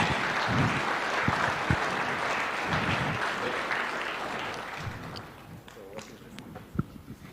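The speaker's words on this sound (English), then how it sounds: "And a wonderful clap for that eagle flying high." Audience applause at a State House launch event, sustained clapping with a few louder individual claps, gradually thinning and fading in the last seconds.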